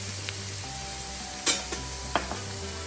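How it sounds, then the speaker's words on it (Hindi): Vegetables stir-fry in a kadai for fried rice, a close, low sizzle under a steady hum, with a few sharp clinks and scrapes of stirring. No one speaks. "हम और वेजिटेबल्स डाल देंगे। The colourful plate goes in the कढ़ाई।"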